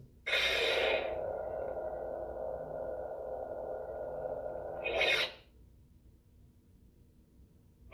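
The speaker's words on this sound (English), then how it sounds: "I like the darker sound fonts a lot better than the light side versions" A lightsaber ignites with a bright burst, hums steadily for several seconds, then retracts with another burst, leaving near silence.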